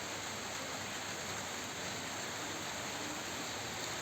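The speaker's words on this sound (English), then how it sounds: "The raindrops are going straight away" Steady rain falls continuously outdoors, a dense, even hiss of drops with no voices over it.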